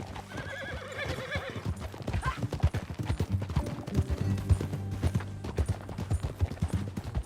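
Horse hooves clip-clop at a trot alongside whinnying and neighing in a Red Dead Redemption 2 ride, over a low musical drone, fairly close and continuous.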